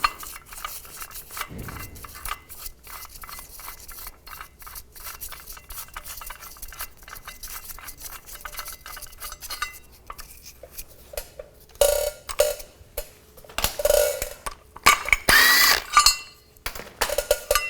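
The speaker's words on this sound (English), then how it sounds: "So take these two bolts out." Two bolts being removed from a bracket with hand tools, a long run of rapid ratchet clicks followed by louder metallic clinks, taps and rattles of the bolts and parts, close up with no talking.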